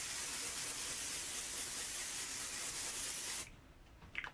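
Dry shampoo hisses from an aerosol can in one long, steady spray onto a face, then cuts off abruptly and leaves a few soft rustles.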